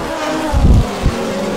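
Race cars brake hard down the front stretch on Shoreline Drive at Long Beach: a loud, steady engine roar with two brief low thumps as the cars slow.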